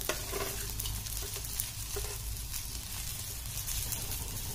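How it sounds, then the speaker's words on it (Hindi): Onions and garam masala fry and sizzle in a pan on lowered gas flame for a mutton gravy, a steady close hiss with occasional stirring scrapes throughout, no talking. "गैस का फ्लेम आप कम कर लेंगे और ये सारे गरम मसाले इसी में डालकर भूनेंगे"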